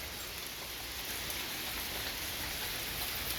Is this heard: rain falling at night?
yes